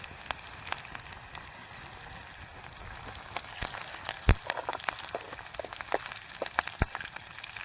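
Curry leaves and onion spit and crackle in hot oil during tempering: a steady, close sizzle with sharp scattered pops and a few louder bursts, no voices.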